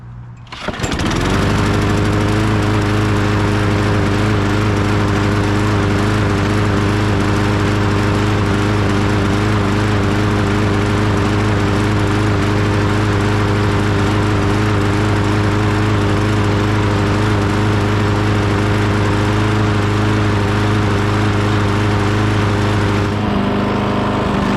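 Small lawn mower engine fitted with a new HIPA carburetor, spark plug, air filter and gaskets, and running with a broken head bolt, roars to life and runs steadily and loudly at high speed for over twenty seconds, close up, before cutting off.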